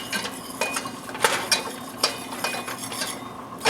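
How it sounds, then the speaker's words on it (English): A whisk stirs a white cream sauce with parmesan in a pan, giving a steady run of close, rhythmic scraping clicks against the metal with no voices. "I'm just going to keep whisking this for another few seconds here."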